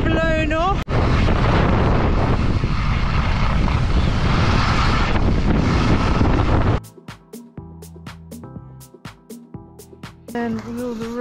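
Strong wind roars across a ski slope in Val d'Isère, loud buffeting gusts hitting the microphone for several seconds before giving way to sparser clicks and a voice at the end.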